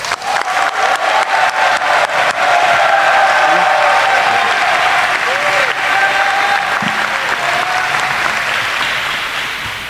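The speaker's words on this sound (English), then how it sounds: "let's give a warm round of applause to our Lieutenant Governor" A political rally crowd breaks into loud, dense applause with cheering for the Nationalist Party's Lieutenant Governor candidate, Will Tierman, sharp claps at first merging into a sustained roar that gradually tapers, with voices mixed in.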